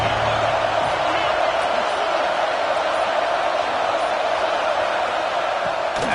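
A stadium crowd in a college football video game roars as a steady, dense wash of noise, loud and unbroken throughout, with no clear peaks.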